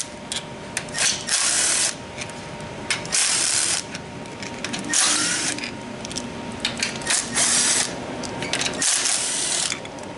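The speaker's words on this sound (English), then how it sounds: "I'm going to start with removing the tail shaft housing" A ratchet wrench clicks in repeated bursts, close and loud, while bolts come out of the tail shaft housing on a 6L80 transmission being converted to four-wheel drive for a Jeep LS swap.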